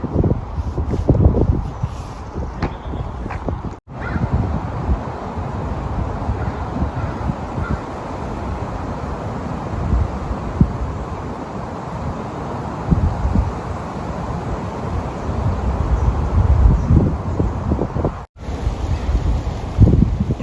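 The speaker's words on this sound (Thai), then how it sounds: "ลมว้อยวอย ลมเย็น" Steady wind blows hard across a microphone by a river with sailboats nearby, a continuous loud rushing roar with gusty swells and brief drops over twenty seconds, no voices.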